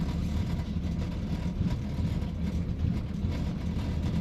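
A 1955 Chevrolet Bel Air's engine runs in a steady, loud, low rumble that holds unbroken throughout, with no voices over it.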